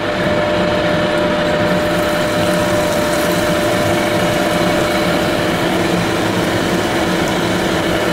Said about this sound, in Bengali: এই তেলের মধ্যে এখন আমি এটা দিয়ে দিব